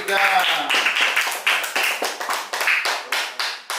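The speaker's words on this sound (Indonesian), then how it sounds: "ayo tepuk tangan untuk kelompok 3" A classroom claps for a presenting student group in a teaching assessment: a small number of hands clapping in a quick, fairly regular rhythm, close and crisp, about a dozen distinct claps tapering toward the end.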